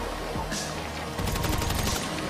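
Gunfire in GTA 5 Online during a team deathmatch, a quick volley of rapid shots that turns into a dense, fast burst of automatic fire.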